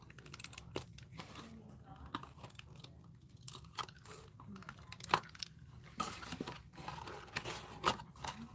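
Close, quiet crackles and taps of tape being pulled, torn and pressed down onto a craft box, in irregular bursts with soft rustling between them.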